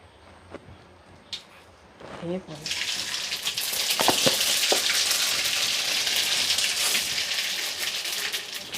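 Mustard seeds hit hot oil for vadakari, and after a brief voice and some quiet kitchen sounds, a loud, dense crackling sizzle erupts and continues, close up.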